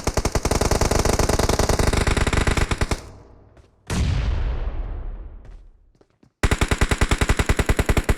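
Video game gunfire: loud, rapid automatic bursts hammer away, then a heavy blast rumbles and fades into brief quiet before another rapid burst erupts, all close and dense.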